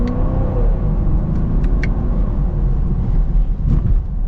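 A 2024 Chevy Camaro LT1 with its V8 heard from inside while driving, a steady loud engine rumble and road drone throughout with a few faint ticks on top.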